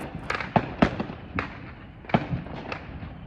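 Fourth of July fireworks going off outdoors: several sharp cracks and pops at irregular intervals over a steady hiss of background noise, moderately distant and fairly faint, with no talking.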